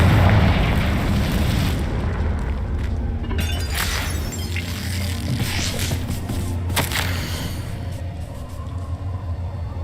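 A Confringo fire-blast spell goes off in Hogwarts Legacy, a loud rumbling boom with crackling, shattering bursts that slowly fade under continuous low game rumble.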